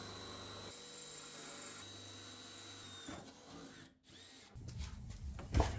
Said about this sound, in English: now I'm gonna hit it with a 3/8 drill bit